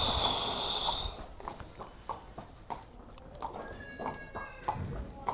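Hooves of a mare clip-clop at a walk, several uneven thuds spaced across the clip, fairly close, with faint shuffling and a soft snort-like sound but no talking.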